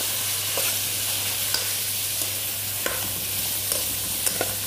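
Eggplant frying in a pan as it is stirred, a steady soft sizzle with scattered light scraping and tapping of the utensil, quiet and close, no talk.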